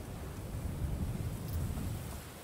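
A thunderstorm approaches in the video game A Plague Tale: Requiem, heard as a low, rolling rumble of thunder under a steady rain-like wash. It is moderately loud and free of speech.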